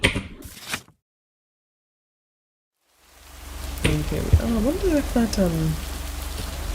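Rain falls steadily in the video game Lake, a soft constant hiss that starts after a brief silence, with a person talking over it and a few sharp clicks.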